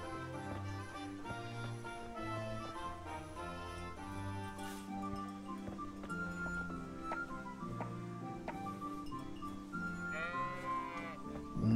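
Sheep bleat intermittently across a grazing pasture in the medieval game Kingdom Come: Deliverance, mid-distance calls over a continuous bed of musical score, one bleat more pronounced toward the end.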